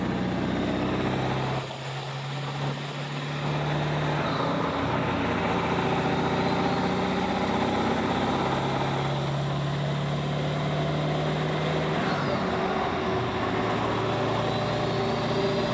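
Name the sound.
7.3 Powerstroke diesel truck turbo while towing a trailer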